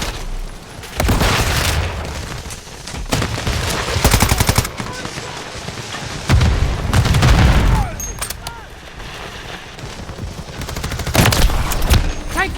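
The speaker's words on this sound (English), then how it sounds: "Taking effective fire!" Call of Duty Modern Warfare 3 battle, with dense bursts of automatic gunfire and heavy booming explosions arriving in repeated loud clusters, and game voices calling out in between.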